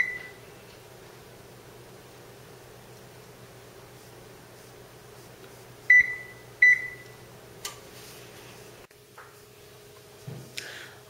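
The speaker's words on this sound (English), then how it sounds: "First thing you want to do is heat your oven to" An oven preheating to 425, its steady fan hum running under two sharp electronic beeps as buttons are pressed, then a louder chime and clunks near the end.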